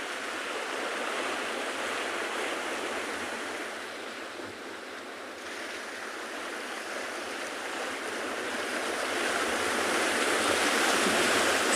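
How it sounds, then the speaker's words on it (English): Powerful ocean surf on a South African coast with a heavy swell, a steady loud roar of breaking waves that swells and eases slightly, with no talk. "The sound of this ocean, so powerful."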